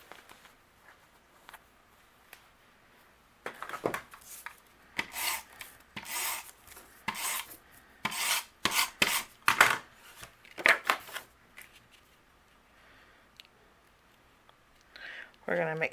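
Paper panel being rubbed down onto an A2 card base while adhering it for an Easter easel card, a series of close, dry rasping strokes in bursts, quiet before and after.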